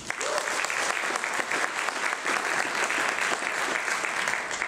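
An audience at a Santa Fe education forum breaks into sustained applause for the Interfaith Coalition, dense clapping from many hands holding at an even, fairly loud level throughout.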